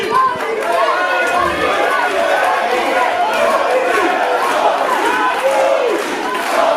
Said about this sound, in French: le public de la salle de la Cité qui applaudit Jean-Michel.